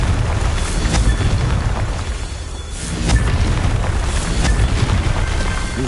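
A loud Confringo fire spell blasts in Hogwarts Legacy, a dense roaring burst that dips briefly and then surges again, carrying on with no one talking.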